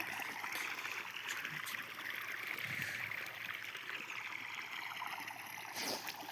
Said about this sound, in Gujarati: મોટર અમારે થોડુંક પાણી કાઢે છે